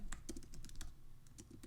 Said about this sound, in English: So we're going to start typing this in.